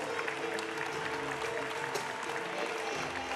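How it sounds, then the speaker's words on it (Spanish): Spectators at an equestrian show applaud a horse rider, sustained clapping from a crowd with a faint murmur, fairly even in level across the whole stretch. "David Escrivá, ese aplauso."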